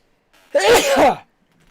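A single sharp sneeze, preceded by a quick intake of breath, close to the microphone in an otherwise quiet room.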